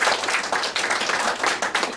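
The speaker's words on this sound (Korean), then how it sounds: "박수 한번 다시 좀 부탁드립니다" Audience applause at a graduation ceremony for a civic education course, steady dense clapping filling the room for the full two seconds with no voices over it.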